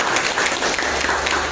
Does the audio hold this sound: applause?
yes